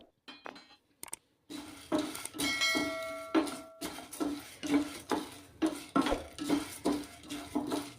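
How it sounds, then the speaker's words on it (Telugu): Coriander seeds, urad dal and chana dal roasting in a spoon of oil in a kadai, with steady crackle and repeated metallic scraping and stirring clinks against the pan, close and moderately loud. "ఇప్పుడు ఇందులోకి ధనియాలు, మినపప్పు, పచ్చెనగపప్పు వేసి వేయించుకోవాలి."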